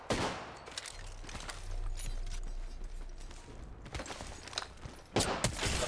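Rapid bursts of gunfire in Apex Legends crackle close and loud, coming in clustered volleys separated by brief lulls, with mechanical clatter and a final sharp burst at the end.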